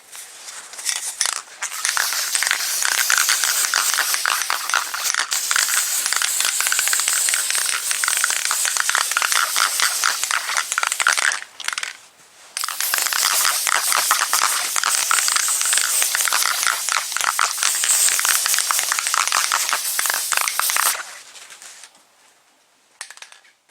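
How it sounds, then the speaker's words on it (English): Flat black spray paint hisses from an aerosol can in long steady bursts as a guide coat goes onto a car engine bay, broken by brief pauses and ending quietly. "I'll be using this flat black spray paint."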